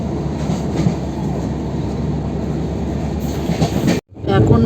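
A long-distance express from Howrah to Bangalore rolls along, heard from inside a carriage as a steady rumble with faint rhythmic clatter. A brief gap comes near the end.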